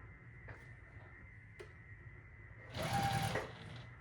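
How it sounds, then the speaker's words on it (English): A sewing machine briefly stitches quilt block pieces together in a short, close burst of under a second, with a couple of faint clicks before it and quiet room noise around it. "So let's sew these together."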